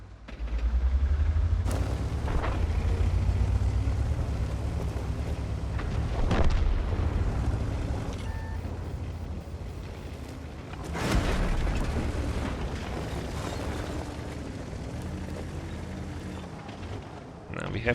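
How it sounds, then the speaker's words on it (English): Artillery shells burst in World of Tanks as deep booms, with a heavy rumble at the start and sharp impacts around two, six and eleven seconds, set under continuous game engine noise. "Now we have to avoid the artillery."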